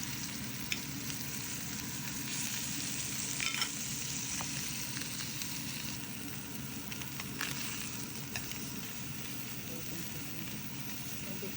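Hamachi kama, a yellowtail collar, sears in olive oil with a steady, soft sizzle and faint crackles, heard up close and fairly quiet.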